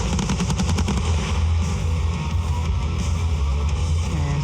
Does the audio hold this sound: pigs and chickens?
no